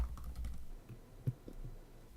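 A few soft keystrokes tap on a computer keyboard as a page name is entered, quiet and irregular, with one slightly louder click near the middle and no talking.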